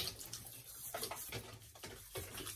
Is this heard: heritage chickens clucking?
no